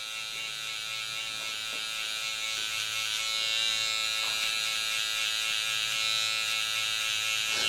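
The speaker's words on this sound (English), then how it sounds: "Next step, I'm gonna get the liner, the trimmer, to just smooth this out so it's nice and bald." A barber's electric hair trimmer smoothing a beard fade down to bare skin buzzes steadily and closely throughout, a constant high whine with slight shifts in pressure.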